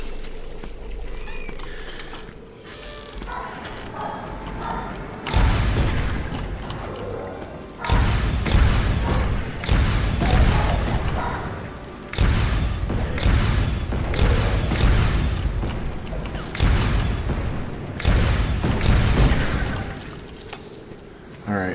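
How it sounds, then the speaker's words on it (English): Rapid, repeated gunfire from a magic weapon in the game Ziggurat, loud punchy bursts recurring every couple of seconds over a busy background. "so I can spam this gun as much as I want until I take damage"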